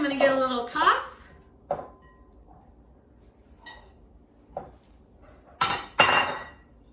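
A kale salad with pumpkin seeds and Parmesan is tossed in a bowl, giving scattered clinks and scrapes of utensils against the dish in short bursts, with a voice talking near the start.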